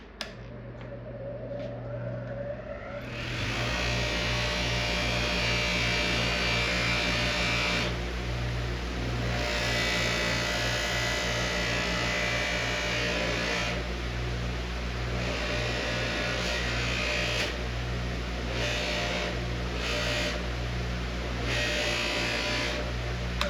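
A motorized polishing wheel buffs an arcade cabinet with automotive polishing compound, a loud steady whirring drone that spins up after a few seconds and runs continuously with brief dips in pitch.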